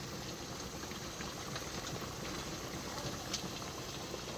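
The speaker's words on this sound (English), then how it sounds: "These are done processing. I'm going to gently lift them out of the water." A water-bath canner holding jars of pineapple boils steadily, giving a continuous close bubbling roar with faint occasional clinks and no pauses.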